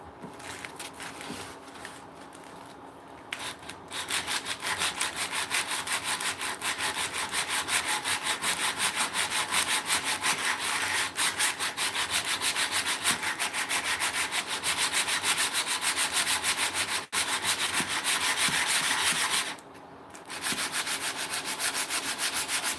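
Coarse 80-grit sandpaper rasps in fast, rhythmic back-and-forth strokes, a loud, gritty scratching held up close that continues almost without a break, pausing only briefly near the end.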